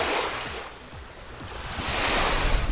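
Clean sea waves roll ashore below a lookout along the Sea of Japan coast, a broad rushing surf that dips and swells again, mixed with gusty wind buffeting the microphone.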